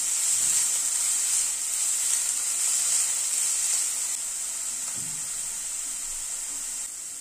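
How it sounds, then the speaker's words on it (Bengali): Onions sautéing in a pan over a high gas flame give a steady, bright sizzling hiss throughout, with a couple of faint low utensil knocks underneath. "পেঁয়াজটাকে গ্যাসের ফ্লেমটাকে হাই করে হালকা করে সতে করে নিচ্ছি"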